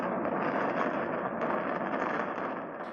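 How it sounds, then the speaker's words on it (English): Mina Plaza skyscrapers in Abu Dhabi collapse in a demolition implosion, heard as a steady, dense roar of crumbling debris and rumble lasting the whole stretch, fairly far off and easing slightly at the end. "That's the sound of the Mina Plaza buildings coming down on the outskirts of Abu Dhabi"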